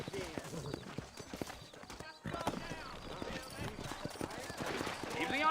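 Horse hooves clip-clop steadily in the Red Dead Redemption video game, a busy rhythmic patter at close range with a brief neigh, all under continuous speech and a short gap of near silence midway.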